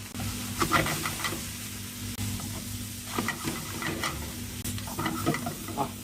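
Fish masala sizzles in a hot pan while being stirred, a steady close frying crackle broken by scraping spoon strokes at irregular intervals, with no talk.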